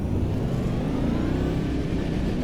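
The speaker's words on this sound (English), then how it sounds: "the sound of this car is smoother" An LMDh prototype race car in a Le Mans racing game revs with a steady, smooth engine drone that holds loud and unbroken throughout, with no voices over it.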